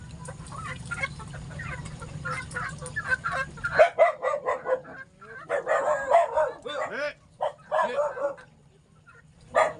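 Several dogs bark in quick bursts close by, mixed with clucking chickens, while faint voices sound in the background.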